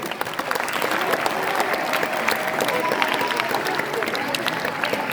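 An audience claps in a dense, steady round of applause at an indoor session, sustained for several seconds.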